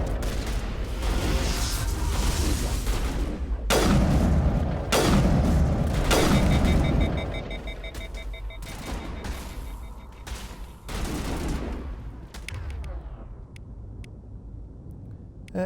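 Heavy gunfire in a space-set video game, a sniper rifle among the weapons, with several loud booming shots and bursts in the first half, thinning to scattered fainter reports and a quieter tail.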